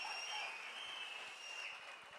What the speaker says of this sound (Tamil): ஒரு அரங்கம் நிறைந்த கைத்தட்டல் அண்ணனுக்கும் மாவட்ட செயலாளர்களும்